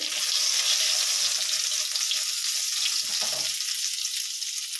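Ginger and garlic with chopped chilli fry in hot oil for chilli chicken, a steady, close sizzle that fills the whole clip with no talk over it.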